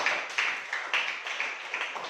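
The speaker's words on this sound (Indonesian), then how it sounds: "tepuk tangan untuk Mega" Classroom applause for a student named Mega: a brief burst of many hands clapping close by, steady and dense for about two seconds with small swells, no voices over it.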